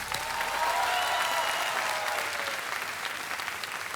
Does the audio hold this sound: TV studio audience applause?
yes